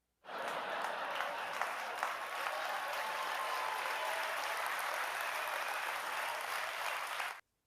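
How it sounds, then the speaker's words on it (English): A studio audience claps and applauds steadily for about seven seconds, loud and dense with laughter mixed in, with no talk over it. "we could hear the audience laugh and clap and applaud"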